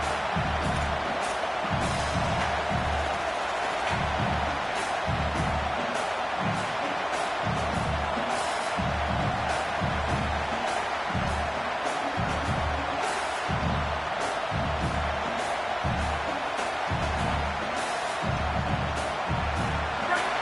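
Stadium crowd in a college football video game between BYU and Indiana, a dense constant roar with rhythmic surges and thumps, heard under commentary-style talk throughout.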